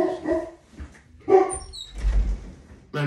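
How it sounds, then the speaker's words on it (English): An excited pet dog gives several sharp barks and yips spaced out across a few seconds, close and fairly loud, with quieter whimpering sounds between them. "don't mind my dog, he's excited"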